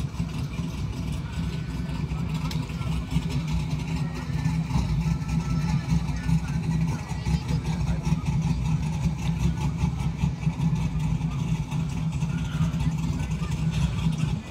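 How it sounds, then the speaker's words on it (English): A race car engine idling steadily after a crash, a constant low rumble that stays even and fairly loud throughout with no revving. "the car's idling fine"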